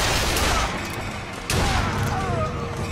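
Hand cannon blasts in the first-person shooter Bioshock Infinite: heavy, booming gunshots that strike hard and ring out amid the roar of combat, with a voice talking underneath.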